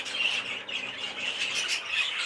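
A canary held in a show cage gives harsh, scratchy squawks, close and fairly loud, in a few uneven bursts with no talking.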